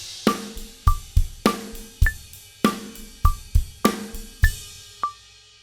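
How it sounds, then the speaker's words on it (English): A drum kit plays a basic, simple 8th-note groove: steady kick and snare backbeat under even, ringing hi-hat or cymbal strokes, close and loud with no talking. "It's a basic, simple 8th note groove and it sounds like this"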